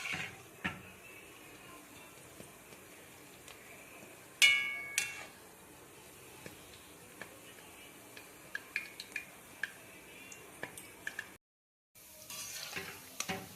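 Tal phuluri, sweet palm fruit fritters, deep fry in oil with a faint, low crackle. Scattered sharp clicks and clinks of a utensil against the pan sound now and then, with one louder knock partway through.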